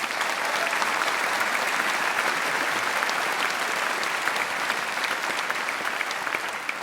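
Sustained, dense audience applause at the Opéra National de Bordeaux honoring a dancer's final performance, an even wall of many clapping hands continuing steadily throughout without talk.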